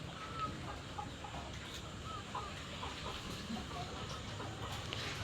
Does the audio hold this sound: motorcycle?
no